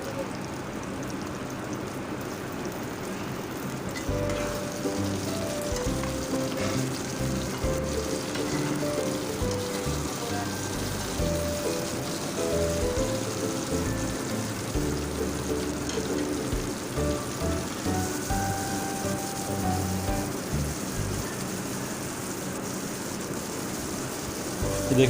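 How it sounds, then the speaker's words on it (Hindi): Okra shallow frying in oil in a pan, a continuous dense crackling sizzle that holds steady and fairly loud for the whole stretch, with no voice over it. "ये देखें जी, भिंडी हमारी शैलो फ्राई हो रही है हल्की हल्की"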